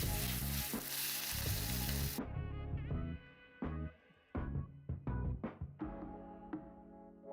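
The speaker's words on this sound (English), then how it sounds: "we'll go to this so you can see it sizzling" Beef fat crackles and sizzles in a hot pan seasoned only with salt, loud and close, with sharp popping spatters over a steady frying hiss that drops to quieter, more broken crackling partway through.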